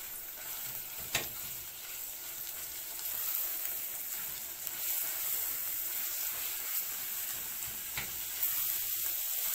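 Minced meat dropped onto browned onions in a pan for béchamel pasta, a continuous close hiss of frying with a couple of sharp crackles and light stirring.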